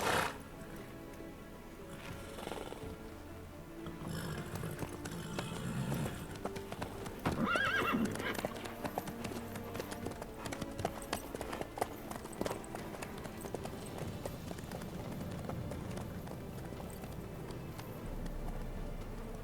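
A horse in The Witcher 3 gallops with steady, rapid hoofbeats and lets out a clear whinny partway through, close and prominent, with faint game ambience behind it.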